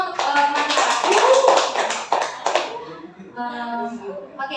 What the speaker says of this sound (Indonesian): Kasih aplaus dong untuk teman kita.